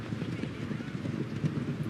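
Trotting horses' hooves at a 2400 m trotting race at Lyon Parilly clatter in a quick, continuous clip-clop, fairly near, with wind rumble and a faint murmur of voices.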